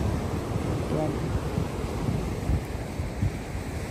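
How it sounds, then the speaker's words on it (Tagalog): Ocean surf at Mooloolaba beach: a steady, close broadband wash of breaking waves mixed with wind buffeting the microphone, continuous for the whole stretch with no distinct pauses. "palakas pa rin ang palakas ang alon"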